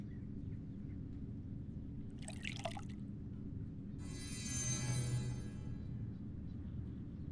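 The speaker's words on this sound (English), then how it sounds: "I poured the water into the bowl" Water poured into a bowl in the 2003 video game Black Mirror, a short splashing trickle followed by a ringing, watery shimmer, heard over a steady low background hum.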